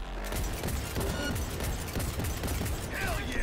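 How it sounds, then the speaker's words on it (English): Pistol shots in the video game Cyberpunk 2077, a quick cluster of close, punchy reports packed over dense combat noise and a busy soundscape. "Damn, that's a good pistol."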